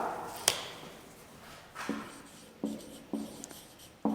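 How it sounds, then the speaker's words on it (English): Chalk taps and scrapes on a classroom board in short, separate strokes, a sharp tap followed by several quick marks, close and fairly quiet with no talking. "Now I am going to write over here"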